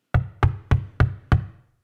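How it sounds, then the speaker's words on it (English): Knocking on a wooden door: five evenly spaced, firm knocks, close and clear, with no talk around them. "Derek soon came knocking on Sid's door"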